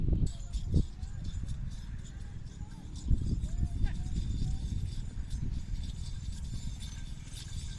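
A bull runs at a rural bull event, its heavy hooves thudding in an irregular, clip-clop-like beat over a constant murmur of background voices and crowd noise.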